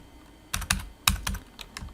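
Several quick keystrokes tap on a computer keyboard in a short irregular burst, close and clear in a quiet room.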